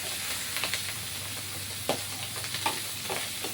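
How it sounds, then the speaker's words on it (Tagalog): Cooking oil sizzles steadily in a pan with sharp pops and spatters breaking out irregularly, the crackling loud and close with no talk over it. "nananalsik yung mantika guys"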